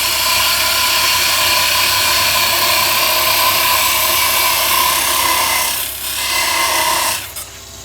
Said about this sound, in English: I will mark where the neck is with another parting tool